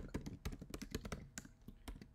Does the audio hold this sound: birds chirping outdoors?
no